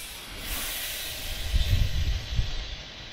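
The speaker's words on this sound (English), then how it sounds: "give them a little spritz of olive oil all over" Olive oil is spritzed over vegetables on a barbecue grill, a soft, steady hiss with a few faint bursts of spray, close and quiet, with no talking.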